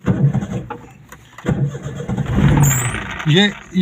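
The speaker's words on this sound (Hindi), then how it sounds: "मैं अभी आपको ये चेक करवा देता हूँ स्टार्ट करके गाड़ी" Manual-transmission car engine cranking and firing up, then settling into a mid-pitched idle with brief revs, heard close while someone talks over it.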